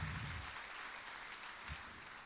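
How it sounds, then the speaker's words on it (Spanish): A church congregation applauds during a Spanish-language sermon, soft and somewhat distant clapping spread through the room, with a couple of louder low thumps and no speech on top. "Dale un aplauso al Señor por lo que Él va a hacer"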